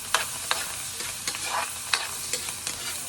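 Garlic and onion fry in a pan with a steady close sizzle, punctuated by regular scraping stirs roughly every half second.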